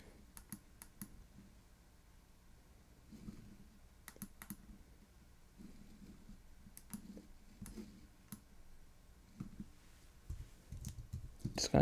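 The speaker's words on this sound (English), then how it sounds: "Just gonna type using the keyboard that these guys gave me, Acer, for free." Typing on the keyboard of an Acer Iconia W700 tablet comes through as irregular bursts of soft clicking keystrokes, close and quiet, with a few louder taps.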